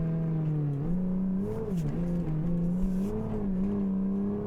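Revving V8 engine of a Morgan 3 Wheeler in a racing video game, a steady tone that climbs and dips as the revs rise and fall, loud and continuous with no talk.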